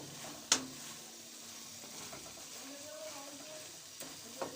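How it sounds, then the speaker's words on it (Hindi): Chicken pieces frying in a pan for white chicken karahi, a low steady sizzle with a sharp clatter of stirring near the start and another near the end. "5 मिनट इस चिकन को हम और फ्राई करेंगे।"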